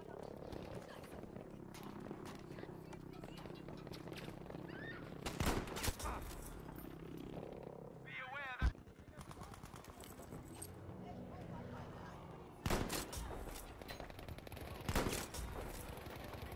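Gunshots in a shooter video game: sharp reports at scattered moments over a steady bed of game noise, mid-loud with no voices.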